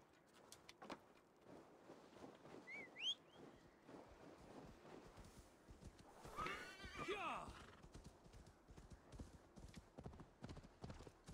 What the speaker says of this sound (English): You are a finicky horse, you know that?